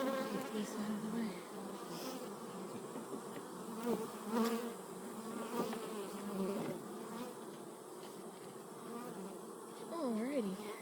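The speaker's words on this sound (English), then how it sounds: "Shake all those bees off" Dense buzzing of many honey bees swarming close by, a steady droning hum with individual bees passing near the microphone.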